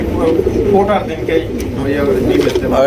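Pigeons kept for sale, some with eggs and chicks, coo in soft repeated throaty rolls close by, with voices talking over them throughout.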